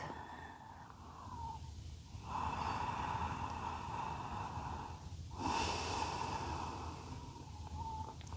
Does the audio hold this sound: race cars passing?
no